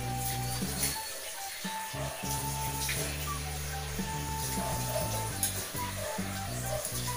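Steady running water while someone washes their hands, a continuous hiss with soft splashing, under music playing in the background.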